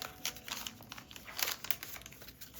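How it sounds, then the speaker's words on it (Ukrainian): Crisp crinkling and rustling of a plastic packet being handled and pulled open, close and continuous with small bursts. "ми забули відкрити пакетик із 21 пакетик."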